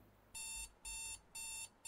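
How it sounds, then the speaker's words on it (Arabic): Alarm clock ringing in a Roblox game, sharp high electronic beeps in steady repeated bursts about half a second long, clear and alone with no voices. "آه، المنبه اقفل المنبه"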